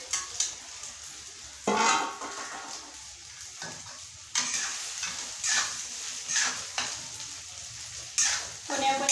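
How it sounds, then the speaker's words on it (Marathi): Fried potatoes and green chillies stirred together with sago in a pan, bursts of sizzling and spatula scraping that rise and fall in uneven strokes, close, no talking. "आता आपण हे शाबू टाकून मस्तपैकी मिक्स करून घेऊ"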